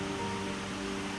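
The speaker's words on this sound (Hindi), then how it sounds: "आप लोगों को नदी जो बह रहा है उसका आवाज़ सुनाई दे रहा है" Rushing river water flows steadily below a hanging bridge in the hills of Bhutan, a constant broadband roar with no breaks, moderately loud and close.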